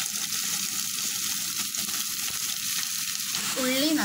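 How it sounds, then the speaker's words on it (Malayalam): Chopped onions fry in hot oil in a pan with a loud, continuous crackling sizzle and a few stirring sounds near the end, close and unbroken, without talk. "ഓയിൽ നന്നായി ചൂടായി വന്നാൽ അതിലേക്ക് അരിഞ്ഞു വെച്ച ഉള്ളി ചേർത്ത്,"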